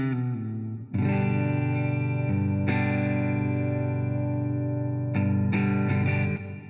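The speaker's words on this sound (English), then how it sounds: "Put a little reverb behind that." Clean electric guitar through a patch modeled on a Fender Twin amp with reverb added, chords ringing out sustained and full with a wash of reverb tail, strummed anew a few times and played alone without voices.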